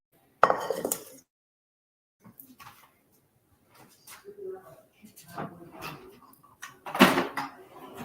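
A cooking pot handled in a kitchen, giving a few short metallic clinks and knocks with quiet gaps between, close by and mixed with a person talking.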